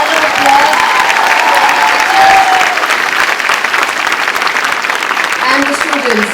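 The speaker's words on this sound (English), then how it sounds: "So big round of applause" Loud applause fills a school auditorium, where the audience claps steadily for a student and teacher production, with a faint tonal element running underneath the dense clapping.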